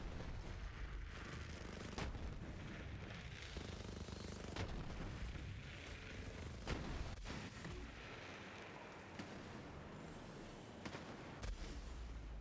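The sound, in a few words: Monarch gun firing in the video game Borderlands 3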